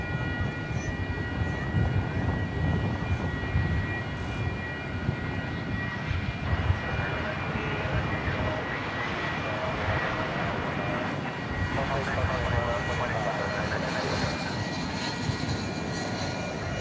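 An MD-11 taxis at DFW Airport after dark, its jet engines a steady, droning whine with a low rumble and thin high tones, continuous and moderately distant throughout.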